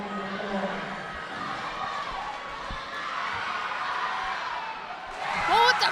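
A crowd at a high school basketball game roars in a continuous, swelling wall of cheering that rises toward the end, with a commentator's voice under it.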